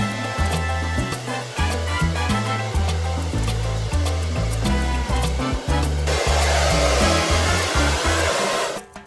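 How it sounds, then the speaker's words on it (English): A hair dryer blows at maximum speed on medium-high heat, a loud steady whirring drone that rises in pitch slightly near the end before cutting off. "let's see with my hair dryer on medium, almost medium high heat at the maximum speed"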